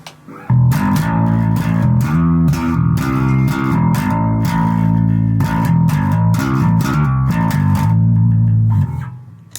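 Gritty, distorted bass guitar through an overdrive pedal playing a rhythmic riff of repeated notes, loud and close, with no talking.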